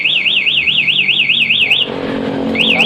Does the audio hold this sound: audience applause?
no